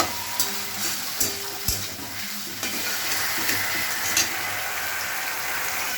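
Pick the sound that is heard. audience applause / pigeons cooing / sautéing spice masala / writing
sautéing spice masala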